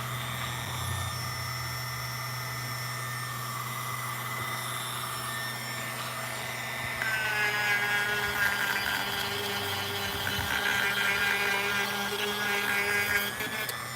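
Dremel rotary tool carving, a steady high whine at moderate distance that grows louder and busier partway through as the bit bites into the material, with no talking.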